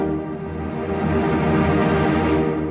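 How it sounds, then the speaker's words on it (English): Yamaha MODX M7 76-key synthesizer playing a simple string patch with tremolo: a sustained chord that holds steady and full for a few seconds, heard on its own without talk. "So a simple string sound with a tremolo"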